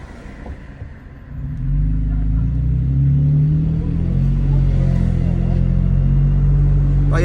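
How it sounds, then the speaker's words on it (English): A 2019 Toyota Tacoma TRD Pro with an MBRP 3-inch catback exhaust drones steadily while driving, a deep close rumble that rises as it accelerates after the first second or so. "So I'll let you guys hear the exhaust, like when I'm driving."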